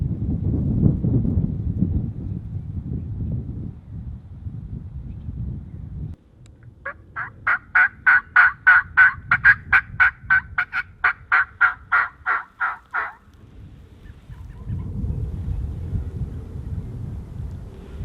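A long, loud rolling gobble of many rapid pulses from a wild turkey rings out in the open in South Dakota, with muffled rumbling and handling noise before and after.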